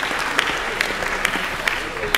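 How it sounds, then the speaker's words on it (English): An audience applauds at a parliamentary speech by the Member for Canberra, a brief burst of clapping with a few sharper claps standing out, heard close and steady under the hall's ambience. "I think a round of applause for Deanna for that effort."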